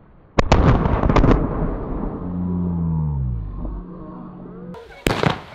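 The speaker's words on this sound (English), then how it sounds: "Hey, fireworks." Close backyard Fourth of July fireworks burst in sharp, loud bangs with crackling tails, then a pause filled by a low whistling tone before another near, loud explosion.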